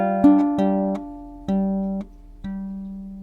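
Baritone ukulele picks out a slow blues melody over a low G bass note, four or five plucked notes ringing in even steps, close and clear with no voices.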